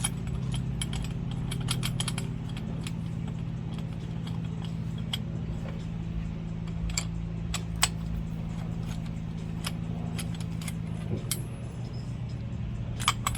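A ratchet with a thin-wall socket fastens a wheel spacer onto a vehicle hub, making bursts of rapid close clicking over a low steady hum, with a few sharper ticks.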